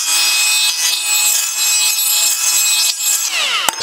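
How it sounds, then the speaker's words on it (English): Carbide deburring tool scraping the cut edge of a stainless steel down pipe tube, a steady, close, continuous grinding rasp lasting several seconds with a sharp click at the end; no talking. "I just get rid of this edge with the carbide because it's stainless."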